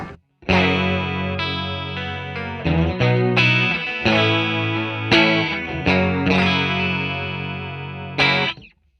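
Electric guitar through a Boss CH1 chorus pedal playing shimmering sustained chords and arpeggiated notes, steady and full for about eight seconds, alone without talk.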